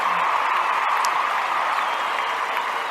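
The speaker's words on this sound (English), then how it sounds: "we need the applause thing" A canned applause sound effect plays on a sports recap show, a steady dense wash of clapping and light crowd noise lasting a few seconds at even loudness.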